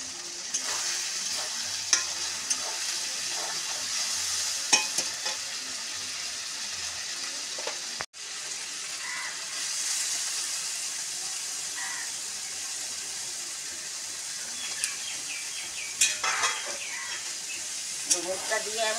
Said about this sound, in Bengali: এবার নাড়াচাড়া করবো। মশলাটা কষা হলে ডুমুর দেবো।